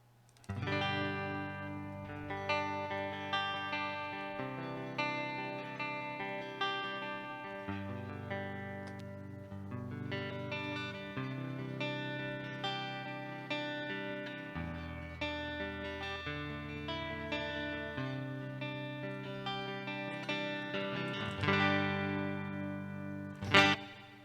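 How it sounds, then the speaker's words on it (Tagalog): Electric guitar played through an M-VAVE Tank G effects preset, sustained distorted chords and notes with chorus and reverb, changing every few seconds, ending with a sharp strum. "So, yun yung tunog ng ating gitara gamit yung Tank G."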